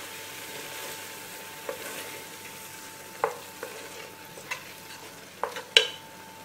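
Ricotta gets stirred into a spinach filling in a pan, a soft low sizzle under scattered spoon taps and scrapes against the pan, faint and close with no speech.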